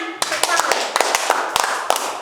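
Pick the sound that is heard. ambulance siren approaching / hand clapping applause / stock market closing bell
hand clapping applause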